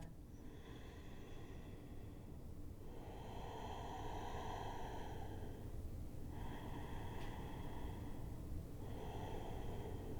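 Slow, deep breathing during a gentle vinyasa yoga flow, long drawn breaths in a slow rhythm of about four cycles, close and airy over a steady background hiss, no talking.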